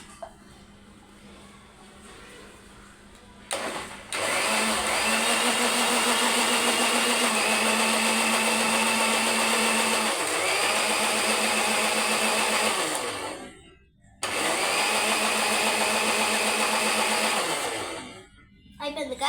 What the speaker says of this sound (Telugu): మళ్ళీ మిక్సీ ఆడుతున్నాను.